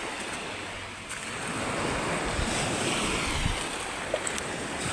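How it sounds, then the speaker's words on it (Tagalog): Ocean waves wash onto a beach at morning in a steady broadband roar, with wind buffeting the microphone and a few brief splashes near the end; no voices. "Nasa Dalampasigan ako. Nang dagat."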